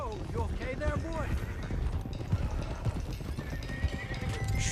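Galloping hooves from a herd of stallions being driven in Red Dead Redemption 2 clatter continuously while a horse lets out loud rising whinnies near the start, with voices talking over the hoofbeats.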